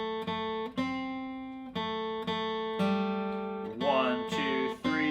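Acoustic guitar picking the B part of the bluegrass tune Cluck Old Hen in a beginner lesson: a run of clear single notes, played close and alone, in a steady rhythm with some sliding toward the end.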